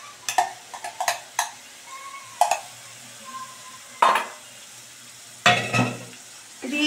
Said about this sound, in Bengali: এবার কিন্তু মিশিয়ে দিচ্ছি ভালো করে